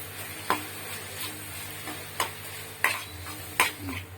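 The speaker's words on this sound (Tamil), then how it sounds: "மிளகாய்த்தூள், கரம் மசாலா போட்டு அந்த மசாலாவில் போகிற வரைக்கும் வதக்கி வச்சுக்கோங்க." Masala with turmeric, chili powder and garam masala sautéing in a pan, with a few sharp scrapes and clinks of a spoon against the metal over a low, steady hum, no voices.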